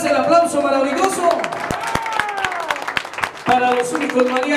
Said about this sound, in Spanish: Fuerte el aplauso para el mariachi.